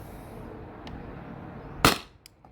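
A Salt Supply S2 CO2-powered salt gun fires a single sharp, loud pop against quiet background noise, followed by a faint click.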